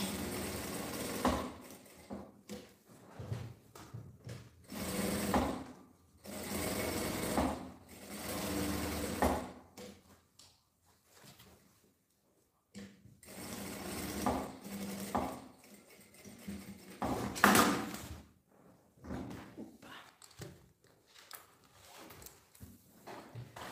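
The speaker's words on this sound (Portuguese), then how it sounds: "agora vou costurar no outro." A sewing machine stitches the fabric lining of a cube-shaped zippered case in several bursts of rapid mechanical whirring, separated by short pauses, close and clear.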